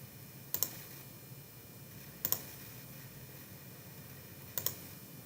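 Three sharp double mouse clicks at even intervals while an online assignment is saved and submitted, each pair crisp and close against a quiet room hum.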